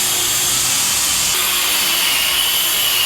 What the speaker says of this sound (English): he's preparing the floor, just grinding it down, smoothing it off a little bit in preparation for the flooring in here